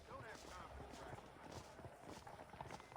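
Horses trotting in the Red Dead Redemption video game, a steady run of hoof clip-clops close by, mixed with voices talking over them.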